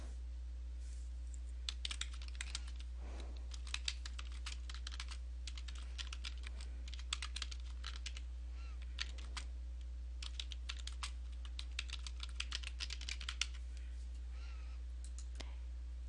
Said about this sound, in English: by typing in a comment